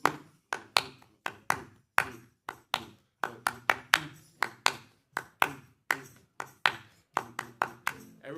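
A group claps along to klezmer music in sharp, rhythmic bursts, sometimes single and sometimes in quick doubles, close and crisp with short ringing decays.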